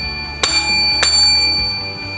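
A notification bell sound effect rings twice, bright, clean dings about half a second apart, ringing out over a low steady background.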